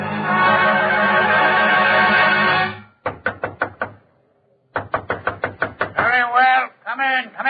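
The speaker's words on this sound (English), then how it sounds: "Knock. Come in." Knocks on a door serve as a sound effect in an old-time Christian radio drama, two quick bursts of sharp, close raps heard after a stretch of speech, followed by more talking.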